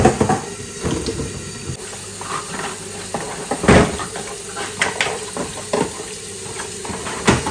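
Dishes being washed at a home kitchen sink, with running water, clinks and clatters of plates and utensils, and occasional louder knocks, all close by.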